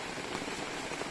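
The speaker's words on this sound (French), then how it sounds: "C'est 24h au Portugal, sous la pluie." Steady, dense hiss of heavy rain pouring down during a storm in Portugal, even and unbroken throughout with no voices.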